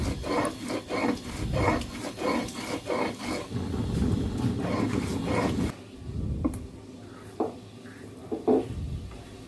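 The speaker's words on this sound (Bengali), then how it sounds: "ভাবলাম মশলাগুলো বেটে নিই" Spices are ground by hand on a grinding stone, giving a close, rhythmic rasping scrape of repeated back-and-forth strokes. After about six seconds the grinding stops, leaving quieter scattered knocks and clatter.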